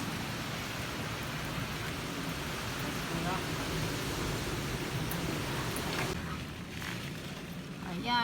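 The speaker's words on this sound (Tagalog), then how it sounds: "Ang ulan." Heavy rain pours down during Typhoon Kristine in the Philippines, a dense, continuous roaring hiss that stays loud and steady throughout, with a faint voice briefly audible near the end.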